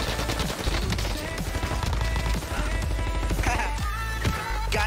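Dense gunfire crackles nonstop in a Warzone firefight on the Fortune's Keep map, rapid shots overlapping at close range with sharp impacts and a heavier blast near the end.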